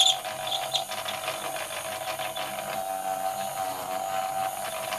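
A battery-powered garden railway railbus runs along its track with a steady, slightly noisy mechanical whir and hum, close by and continuous throughout.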